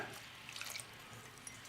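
A soft, continuous trickle of water poured into flour for homemade wonton dough, faint and close, with a few tiny splashes and drips.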